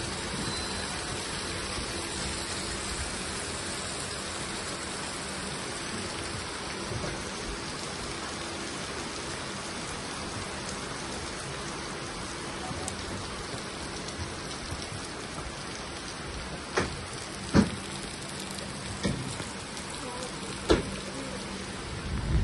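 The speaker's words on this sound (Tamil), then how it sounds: "இங்கே தான் நல்லா மழை பெய்யுது." Heavy monsoon rain falling at a railway station at night, a dense, constant hiss of downpour throughout, with a few louder knocks and clatters near the end.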